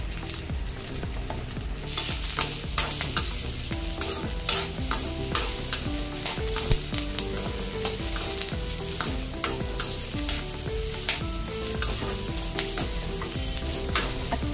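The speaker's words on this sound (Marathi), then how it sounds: "आणि कांदा चांगला परतून घेते." Onion frying in a pan as the masala base for butter chicken, a steady dense sizzle running throughout with repeated scraping stirs of a spatula, close and loud.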